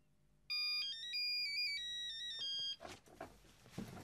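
A mobile phone rings unanswered with a melodic electronic ringtone, a loud, clear repeating tune of bright tones for about two seconds, then cut off as indistinct room sounds follow.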